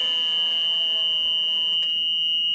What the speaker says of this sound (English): Oh yeah, fuel moving. That means yeah, you can hear it going through the pump.